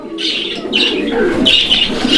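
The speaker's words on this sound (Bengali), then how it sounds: "আপনারা দেখেন, এই যে দেখেন কবুতর" Pigeons coo loudly and close, several soft throaty calls overlapping in short bursts across two seconds, with no talk.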